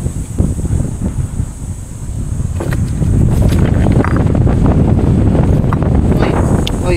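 Strong wind buffets a hillside outdoors, a steady broadband rush that swells louder after the first few seconds and keeps roaring with gusty rumble.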